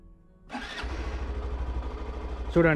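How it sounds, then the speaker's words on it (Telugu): A Hero Super Splendor 125 BS6 motorcycle engine cranks briefly and catches, then settles into a steady, close idle with a short sharper burst near the end. "పుల్ చేయగానే మనకి ఇంజన్ అనేది ఆన్ అవుతుంది"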